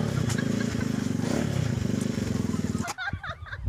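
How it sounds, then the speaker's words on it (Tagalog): A motorcycle engine runs with a steady, fast rumbling idle that fills most of the moment, close and loud, then cuts off abruptly, followed by brief rustling and handling noise. "i-start na natin yung motor."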